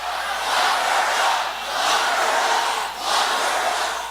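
Crowd at a Trump rally chanting "Lock her up" in loud, rhythmic swells, three phrases rising and falling from a large mass of voices.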